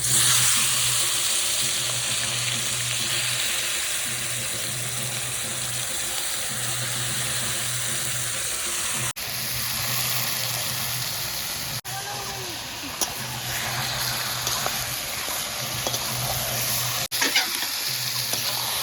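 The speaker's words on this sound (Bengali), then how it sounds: "এবার আমি মটনটা দিয়ে দিচ্ছি।" Mutton sizzling in a pan with garam masala for a thin Bengali curry made with ground spices: a loud, steady hiss of hot oil that carries on throughout, with a few brief clatters and a voice now and then.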